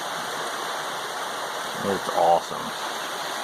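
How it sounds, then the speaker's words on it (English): A stream flows beside a small trailside cabin near Rangeley on the Appalachian Trail, its steady broadband rush of water running throughout, with someone speaking briefly over it near the end. "about 3 feet from the stream."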